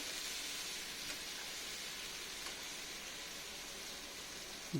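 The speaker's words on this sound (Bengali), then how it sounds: "পোস্তটা দিয়ে আমি একটুখানি নেড়ে নিচ্ছি" Poppy seed paste ground with dried chilli frying in a pan for potol posto, a soft, even sizzling hiss that stays steady and fairly faint the whole time.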